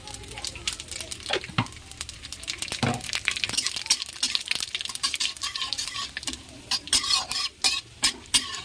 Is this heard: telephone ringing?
no